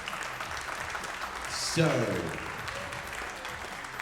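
Steady crowd applause, distant and moderately loud, with a short spoken word over it and a voice rising briefly in the middle.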